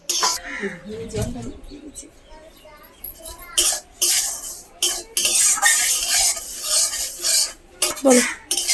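Semolina being stirred as it fries in a pan at home, a spoon scraping and clinking against the metal in irregular bursts, with a cough and faint kitchen clatter close by.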